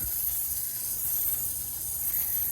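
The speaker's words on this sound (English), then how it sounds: "Okay, look at that spray. It is a stream." Steady, close hiss of a Marolex foam sprayer pushing out a thin stream, broadband and unbroken for a few seconds with a low rumble underneath and no voices.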